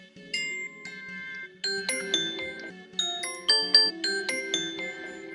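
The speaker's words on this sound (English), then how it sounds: "you can have your doorbell press and you can have your chime" A Blink Video Doorbell 2nd Gen chime plays a bright electronic melody of bell-like tones, several short rising phrases at moderate volume, clear and alone without talk.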